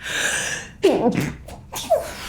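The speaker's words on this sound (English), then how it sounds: "I need to sneeze" A person sneezes with a sharp burst, followed by short gasping breaths and a little laugh nearby.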